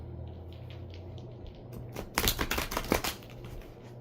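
A deck of cards being shuffled for a card reading, a quick burst of riffling flutter and soft slaps, close and clear against a quiet background.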